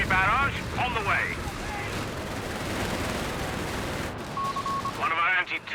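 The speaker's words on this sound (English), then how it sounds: "Artillery barrage on the way." Artillery barrage in the World War II strategy game Company of Heroes 3 on a desert map, a sustained rumbling roar of distant shelling with scattered blasts, overlaid by in-game voice lines and a brief tonal alert near the end.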